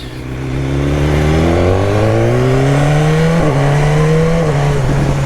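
Sport motorcycle, tied to a 2021 S1000 RR, accelerating hard with a quick shifter, its loud engine note climbing through the gears in rising steps, close and continuous with no speech.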